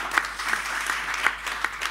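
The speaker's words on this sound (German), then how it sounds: "Also Applaus für alle, die daran mitarbeiten." An audience at a German conference on community-supported agriculture and land policy applauds the Solawi participants in a brief, even burst of clapping.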